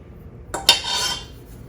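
A metal spoon scrapes and clinks against a bowl while scooping sticky gluten-free Brazilian cheese bread dough, one sharp clink followed by a short scraping rub, close and alone.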